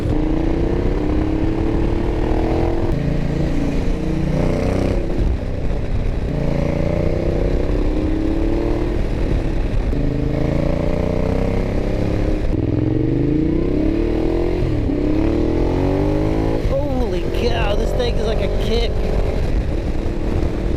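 A Ducati Diavel's engine roars as the bike accelerates along a road, its pitch climbing and dropping through repeated gear changes while wind rushes past, heard up close under the rider's talking.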